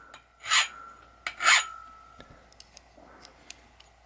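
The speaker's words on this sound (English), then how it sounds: "I had to file the burr off the edge of the tube" A metal file rasps across the cut edge of a light stand tube to remove a burr: two strong strokes about a second apart, followed by faint scattered ticks and taps.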